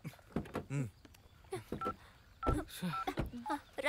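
Short electronic keypad tones from a telephone being dialed to call a travel agency, sounding as a few brief steady beeps mixed in among nearby voices and movement.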